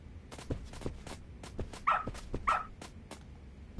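A dog barks twice in the video game Lost Judgment, two short, fairly close yips about half a second apart, set over a low, busy game background.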